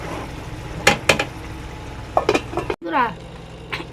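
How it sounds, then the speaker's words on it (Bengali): A metal lid set onto a cooking pot of steamed pabda fish with a few sharp clinks and clatters close by, followed by a brief scrape, while a voice speaks. "এবার ঢাকা দিয়ে দিচ্ছি"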